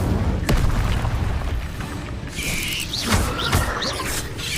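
Incendio fire spell cast in Hogwarts Legacy on PS5, a loud whooshing burst with booming impacts and crackling flare-ups, with some brief sounds layered over it.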